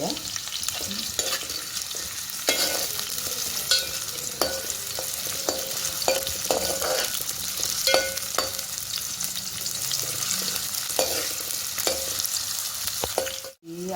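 Mutton masala cooking in a pan, with a continuous close sizzle of frying and repeated scraping, clinking strokes as it is stirred, ending with a sharp knock, no voices.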